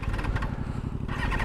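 A Yamaha R7 OW-02 superbike from 1999, one of Yamaha's first fuel-injected motorcycles, throbs close by with a deep, steady, pulsing engine note that rises briefly near the end.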